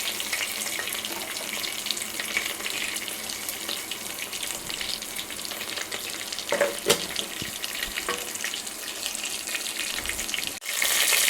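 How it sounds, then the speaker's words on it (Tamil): Spices for a Tamil fish curry crackle and fry in hot oil, a steady broadband sizzle running close and continuous for the whole stretch, with a few sharper pops and splutters rising above it near the end. "எண்ணெய் காய்ஞ்சிருச்சு, தாளிப்பவுடம் போட்டுக்கலாம்."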